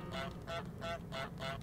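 Goose honks from Untitled Goose Game, five loud nasal calls in a steady rhythm, close and alone with no talk.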